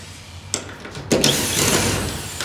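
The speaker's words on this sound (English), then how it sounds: "This is gonna be our drywall screw gun with a 3/8 nut setter." A drywall screw gun fitted with a 3/8 nut setter, removing a ladder rack mount. After two short clicks, the motor revs up into a steady whine that holds to the end, loud and close.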